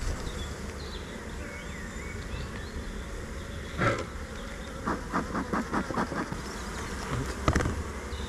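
Honey bees in a growing hive colony buzz continuously in a low, droning hum, with a few louder bees passing close by in short bursts.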